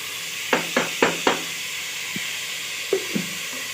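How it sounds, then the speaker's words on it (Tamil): Onions and tomatoes sauté in a pan for a budget mutton biryani, a steady soft sizzle broken by several sharp spoon clicks and scrapes, a quick group of four and then a few more spaced out, with no voices. "ஸோ இப்போ நம்ம வெட்டி வச்ச தக்காளியை ஆட் பண்ணிக்கலாம்."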